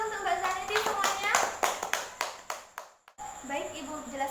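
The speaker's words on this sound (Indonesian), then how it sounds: "Ya, tepuk tangan dulu untuk Mbak Zanetti semuanya." A classroom of students claps in a burst of sharp, uneven hand claps that thin out into a few separate claps and then stop, followed by quieter voices of children nearby.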